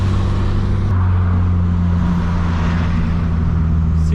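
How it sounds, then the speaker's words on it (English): A Subaru BRZ tS's steady engine and aftermarket exhaust drone while cruising at highway speed, with constant road and tire noise filling the background throughout. "you can hear there's an exhaust, but it's not like super loud or anything"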